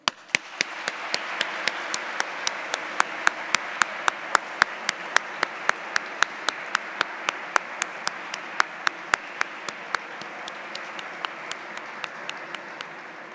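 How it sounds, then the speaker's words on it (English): An audience at a university welcome event gives a sustained round of applause. A dense bed of clapping runs throughout, with sharp, close individual claps standing out at a regular rhythm. The sound is loud and carries no speech. "Please join me in giving yourselves a good, well-deserved round of applause."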